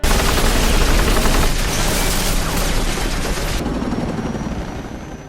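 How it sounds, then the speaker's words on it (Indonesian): A helicopter from Interpol opens fire on a building's top floor in an action film: a dense, roaring barrage of rotor noise and gunfire, loud and continuous, easing off slightly toward the end. "lantai paling atas itu diberondong oleh tembakan, yang ternyata itu helikopter milik Interpol"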